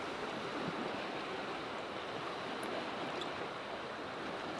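Continuous wash of lake swell rolling against the Queenstown shoreline, steady and close, with wind buffeting the microphone and a couple of faint high clicks; nobody speaks.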